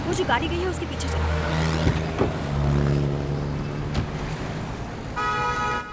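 A taxi pulls away in pursuit of another car in a street scene: engine hum and tonal motor drone with a passing-vehicle swell and a short horn-like tone, under a busy, dramatic soundtrack backdrop.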